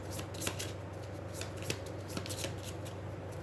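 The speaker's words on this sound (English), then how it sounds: "any player places their discard pile on top of their deck and shuffles it" A deck of cards from the Aeons End War Eternal deck-building game is shuffled by hand, making a quiet run of rapid riffling flutters and soft taps with a few sharper snaps.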